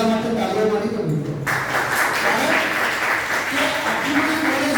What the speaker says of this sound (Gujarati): પહેલા તો એ બધા માટે તાળીઓ મારી દો મિત્રો.